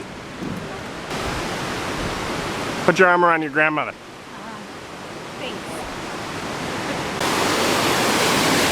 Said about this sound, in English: And water's still just pouring out here